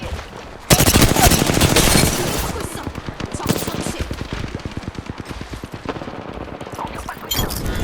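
Rapid automatic gunfire from an Apex Legends match rattles loudly and continuously, with dense bursts of shots layered over game effects and a brief heavy blast midway.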